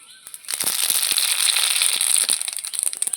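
Whole spices (radhuni) crackle and spit loudly in hot oil for tempering, a dense burst of sharp pops and sizzle that swells quickly and then thins out, with no talking.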